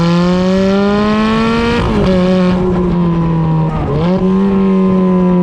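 A stock Ferrari F430 V8 sings at high revs close by, holding a steady pitch with two quick dips and recoveries as it shifts, loud and alone without talk.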